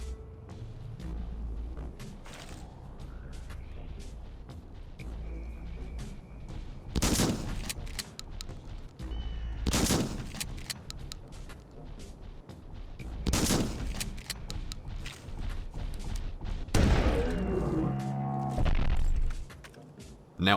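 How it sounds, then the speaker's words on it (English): Tactical shotgun and blunderbuss blasts in the hunting game Carnivores, a handful of loud booming shots spaced several seconds apart over a steady ambient background. "the Blunderbuss had no issue in filleting the dinosaur in a flurry of shrapnel"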